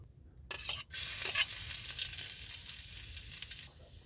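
Cooking oil hits a hot pan and bursts into loud, steady sizzling that holds for a few seconds before easing off, with no voices.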